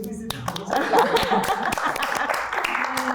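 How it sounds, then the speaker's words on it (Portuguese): Scattered audience clapping for a guest at an open class, a brief patter of claps that builds then thins, mixed with talking voices close by. "palmas para Heron"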